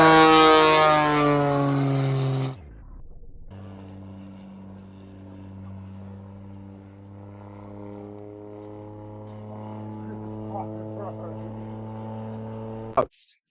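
An aircraft engine roars loudly, then drops to a steady propeller drone with a strong low hum that runs on before cutting off abruptly.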